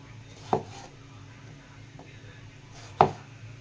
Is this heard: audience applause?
no